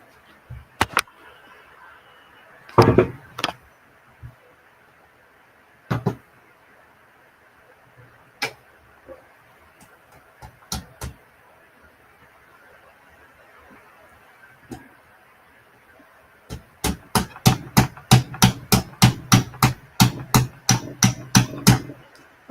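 Stuck lock being whacked, scattered sharp metallic strikes at first, then a fast run of about a dozen loud rhythmic bangs near the end, close and clear.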